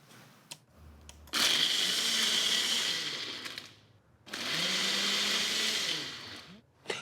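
Smoothie maker blender whirring loudly in two long bursts separated by a short pause, motor pitch shifting slightly as it churns, with a brief click before each run.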